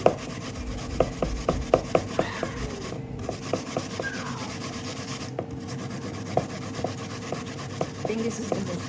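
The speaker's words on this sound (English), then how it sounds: "While this is cooking, I'm going to be grating the yam." Water yam is scraped against a hand grater in steady, rhythmic rasping strokes, close and fairly quiet, with faint clicks as the grater shifts, and no talking over it.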